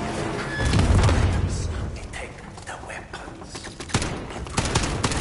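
Single-fire gunshots in Call of Duty: Warzone campaign, sharp separate cracks spaced irregularly over a low rumbling boom and busy battlefield ambience, moderately loud and close.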